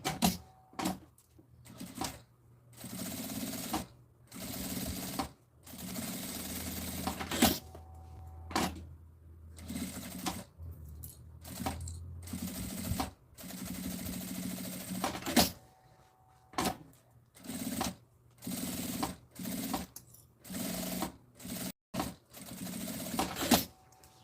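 A sewing machine runs in repeated bursts, stitching a seam around the edge of a zippered fabric pouch with bias binding, its rapid mechanical whir starting and stopping close by with short pauses between runs.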